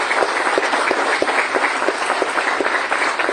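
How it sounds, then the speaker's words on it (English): An audience applauds after a Bharatnatyam dance performance, a loud, dense and continuous round of clapping with sharp individual claps standing out throughout the short stretch. "A loud round of applause please, ladies and gentlemen."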